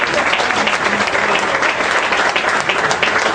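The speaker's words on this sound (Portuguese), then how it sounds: "Você pode aplaudir ao Senhor nessa noite?" A church congregation claps together in praise during an evening worship service, a dense, steady wash of many hands sustained for a few seconds without a break, loud and close with no voices standing out.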